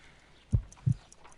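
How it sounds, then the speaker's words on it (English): Two soft, low heartbeat thumps from a Sherlock Holmes Crime and Punishment video game, spaced about a third of a second apart, faint and muffled over quiet background hiss. "I need to concentrate and count the heartbeats."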